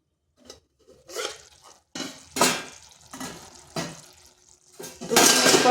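A metal pot of vegetarian papaya and soybean curry is handled and covered with its lid, giving a series of separate clattering, scraping bursts of metal on metal with short quiet gaps between them, close and fairly loud.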